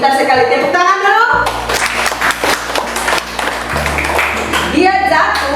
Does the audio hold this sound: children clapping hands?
yes